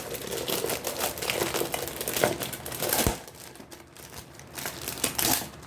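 Frozen cassata ice cream packaging crinkles and rustles as it is pulled open, close and fairly loud, with crackling bursts that ease off, flare again and continue without speech.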